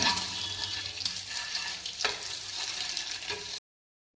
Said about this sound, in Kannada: ಗದ್ದೆ ಎಣ್ಣೆಗೆ ಸ್ವಲ್ಪ ಕರಿಬೇವು ಜೀರಿಗೆ ಮತ್ತು ಚಿಕ್ಕೆ ಇರಲಿಲ್ಲ ಸೊ ಲವಂಗ ಮತ್ತು ಪಲಾವ್ ಇದೆಲ್ಲ ಹಾಕ್ಕೊಂಡಿದ್ದೇನೆ